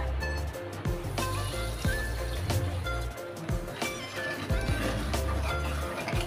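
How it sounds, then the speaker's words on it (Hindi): Water is poured into a pan of sugar while Bombay-style Karachi halwa is being made. A dense, steady splashing and sloshing is heard fairly close for several seconds, with a few knocks against the pan and no talking. "1 बाउल पानी ऐड करना है"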